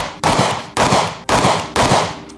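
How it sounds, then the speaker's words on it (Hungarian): Pistol shots from a CZ P-09 Nocturne fired at a target about 10 meters away, a rapid string of loud, sharp cracks spaced roughly half a second apart, each ringing out briefly before the next. "Úgyhogy erre a célra fogunk lőni, körülbelül 10 méterről, és egy gyors, pontos 5-ös sorozatot fogunk mind a kettővel."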